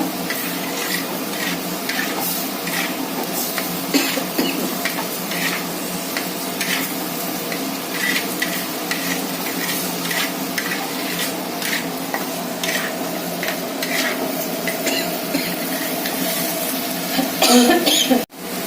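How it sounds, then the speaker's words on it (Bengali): Spice paste with hog plum for a crab curry is stir-fried in a pan, a continuous close sizzle with frequent scraping and clinking of the spatula against the metal pan. "আমড়া দিয়ে মশলাটা কষে নেব"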